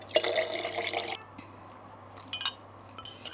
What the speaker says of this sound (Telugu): ఫస్ట్ మిక్స్ చేసేద్దాం, వాటర్ యాడ్ చేసేద్దాం